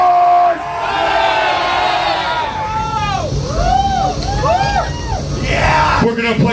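A crowd of metal fans at a live club show in Shinsaibashi, Osaka, cheers and yells loudly and continuously, with rising shouts swelling across the room throughout.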